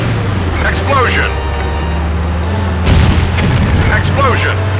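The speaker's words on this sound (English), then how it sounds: "Explosion." Deep booming explosions from the Stuntman PS2 driving game, heavy low thuds layered over a continuous engine drone, with a second blast landing midway through amid other in-game noise.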